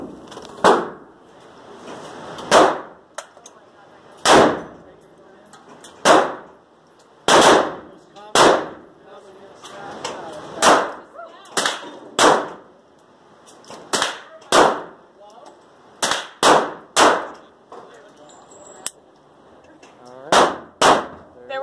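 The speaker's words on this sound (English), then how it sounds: "You can kind of hear the guns. I'm going to go through and you're going to hear the guns." Guns go off at an indoor shooting range: a long run of loud, sharp, echoing reports at irregular intervals, sometimes two or three close together, with faint background noise between them.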